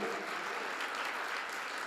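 An audience at a Hindi poetry gathering (kavi sammelan) applauding to welcome poet Lav Kumar Lav, a soft, steady patter of clapping heard from a distance throughout.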